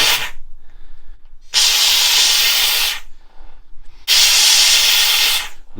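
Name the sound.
steamer hissing steam onto car headlining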